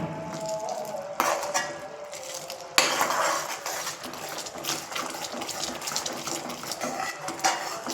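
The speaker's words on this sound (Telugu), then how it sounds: "ఇలా మిక్స్ చేస్తూ ఉండాలి" Sesame laddu mixture cooking in a pan, stirred with a metal spoon: close clinks and scrapes against the pan repeat over a faint background of bubbling.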